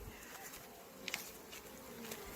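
Honeybees hum in a steady, faint, dense drone inside a hive, with a couple of brief clicks rising above it and no voices.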